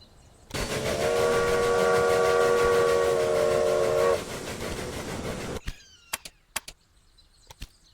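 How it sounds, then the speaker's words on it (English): A steam train whistle in the Railway Empire video game blasts once, long and loud for about four seconds, followed by fading steam hiss and a few sharp clicks. "That is a big train."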